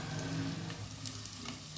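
Bati, dal-bati wheat dough balls, fry in a pan, giving a quiet, continuous sizzle and crackle with a faint scrape or tick near the middle.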